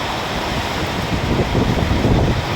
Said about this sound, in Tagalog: lakas pa ng hangin at ulan